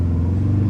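A rally car engine runs with no exhaust fitted, a loud, close, continuous low rumble over a brief moment with no talk.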